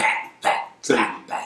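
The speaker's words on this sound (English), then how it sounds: "That's my dog right there." A dog gives four loud, close barks in a steady rhythm, each a short gruff burst, while a voice speaks briefly between them.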